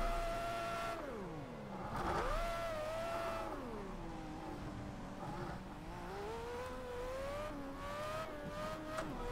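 A Formula A race car in the Project CARS racing game, its engine whining loudly through rising and falling revs as it accelerates and shifts, with faint tire noise underneath.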